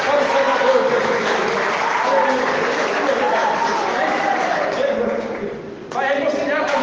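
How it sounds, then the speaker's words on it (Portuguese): A church congregation claps loudly in praise during a Portuguese-language evangelical service, a thick continuous burst of applause that dips briefly near the end before resuming, with voices mixed in. "Uma salva de palmas, meus irmãos, bem forte para o Salvador Jesus."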